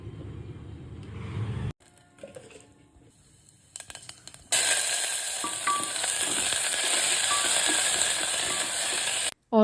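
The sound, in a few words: frying spices for potato and pea curry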